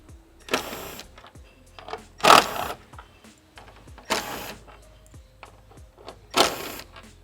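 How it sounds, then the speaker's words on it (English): A cordless power tool whirs in four short bursts, loud and close, as the top bumper bolts come out of a 2011-2014 Mustang GT, with quiet pauses between each run. "Now we're going to remove the 4 bolts that hold the top of the bumper in."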